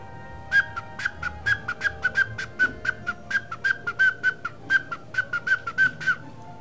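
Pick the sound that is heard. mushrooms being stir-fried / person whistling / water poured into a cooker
person whistling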